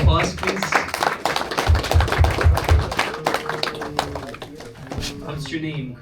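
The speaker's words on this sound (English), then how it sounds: "Round of applause, please." An audience at a tech meetup applauds, a dense burst of clapping that holds steady for several seconds before thinning out near the end.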